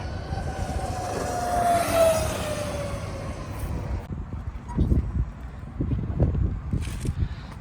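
A Harley-Davidson LiveWire electric motorcycle's whining motor rises and sweeps past, then fades, leaving wind rumble and muffled handling noises close by.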